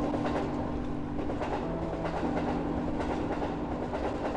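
Electric train in the video game Unreal Life running along its track with a steady rhythmic clickety-clack and a sustained hum, moderately loud and continuous, with no talk.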